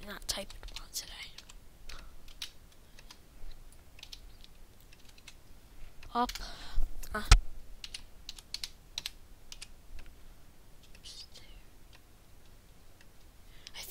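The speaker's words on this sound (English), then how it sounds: "Oh my god, I'm not typing well today." Quiet computer keyboard typing during a Minecraft session, soft irregular key clicks running throughout with a brief louder cluster near the middle, while a person murmurs and whispers faintly now and then.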